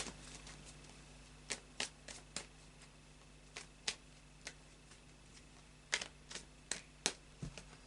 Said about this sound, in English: I'll carry on shuffling.